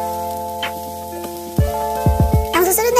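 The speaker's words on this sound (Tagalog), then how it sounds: "maglagay ng kaunting mantika sa ating kawali, igisa ang bawang, at isunod ang sibuyas" Garlic, onion and fresh carrots sauté in a little oil in a pan, sizzling under a stirring utensil that scrapes and taps the pan several times, with a louder sizzle near the end.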